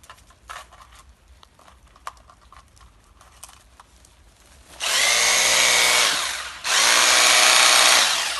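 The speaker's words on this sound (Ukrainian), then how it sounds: "Перфоратор працює." Quiet background clatter gives way to a Mächtz MRH-1170S DFR rotary hammer drill roaring loud and close in two bursts, separated by a short pause.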